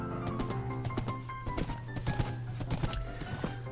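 Hooves clip-clop steadily as a horse is ridden in the Minecraft video game, with a rapid rhythm over a constant low game hum and some bird-like coos.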